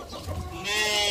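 Farm chickens cluck loudly and close by in a short burst, with other livestock such as sheep kept nearby.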